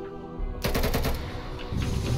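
A gun in a Hollow Knight gun mod rattles off a fast burst of shots, loud and close, after a short quieter lead-in.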